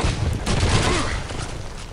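Dense, loud bursts of gunfire and booming blasts in the World War II shooter Call of Duty 2, filling the clip with continuous rumbling combat noise that fades slightly toward the end.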